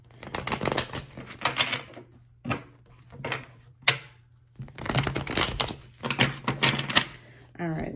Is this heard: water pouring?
no